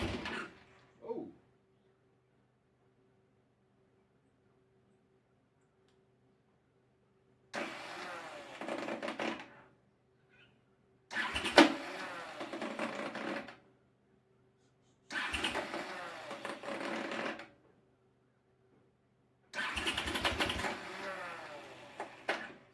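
Starter motor on a Honda CX500 motorcycle cranking in four separate bursts of a couple of seconds each, with silent pauses between and no catch; a brief sound at the start, otherwise quiet.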